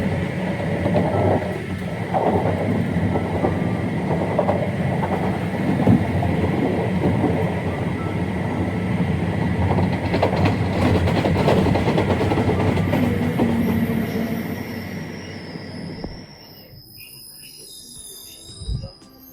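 Night train Mieszko from Gdynia to Wrocław Główny rolling on rails with steady rumble and clickety-clack, loud and close inside the carriage, fading to quiet near the end.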